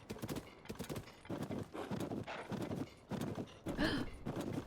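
Horse hooves clip-clop in a video game in a quick, rhythmic run of hoofbeats, with a brief whinny-like tone partway through and no voices.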